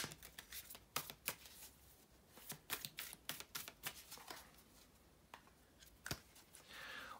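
Tarot cards being shuffled by hand, close and quiet, with a rapid irregular run of crisp riffling snaps and soft card slaps.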